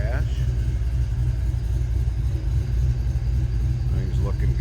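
A 1991 Ford Mustang LX convertible with a mild cam idles close by, a steady low rumble with a slightly lumpy pulse running throughout.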